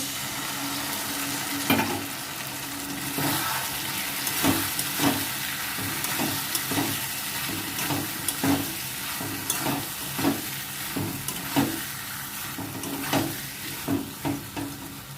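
Ground cashew and melon seed paste frying in a pan, a constant sizzle broken by regular spatula scrapes and knocks every second or so, close and clear.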